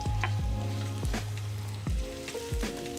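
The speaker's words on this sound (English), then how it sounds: "So now we just go ahead and add our onions." Onions hitting hot olive oil in a pan for a BBQ chicken grilled cheese, a steady close sizzle with several sharp bursts of crackle as more pieces drop in and are stirred, no talking.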